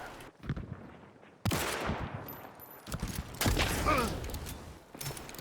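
Flame rifle gunfire in the video game Hunt: Showdown, heard as several loud, sharp shots at irregular intervals, each with a crackling, echoing tail over low background ambience.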